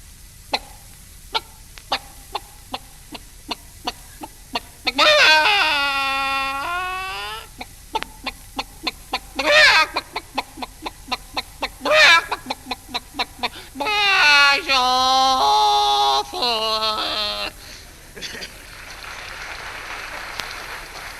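A person mimics a hen, with rapid rhythmic clucks broken by long drawn-out squawking cackles, loud and close.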